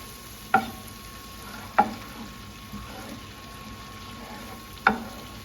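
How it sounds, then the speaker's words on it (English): Butter melting into a pan sauce in a hot pan for pesto and sun-dried tomato stuffed chicken gives a faint, steady low sizzle, broken by three sharp clinks or stirs spaced a second or more apart. "just let the butter naturally melt into the sauce"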